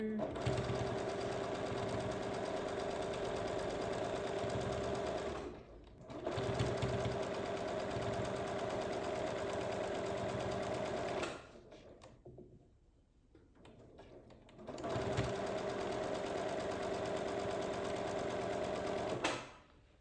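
A sewing machine stitching quilt seams, a steady fast mechanical whirring hum that runs in long stretches, pausing briefly twice while fabric is adjusted, close and loud.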